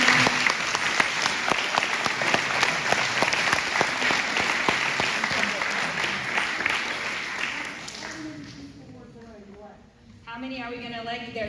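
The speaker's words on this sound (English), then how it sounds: "If we could give them a round of applause for coming tonight." At a meet-the-candidates night for council and mayoral hopefuls, the crowd gives loud, sustained applause for about eight seconds before it fades and a voice begins speaking over quieter room tones.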